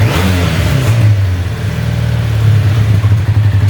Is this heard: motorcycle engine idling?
yes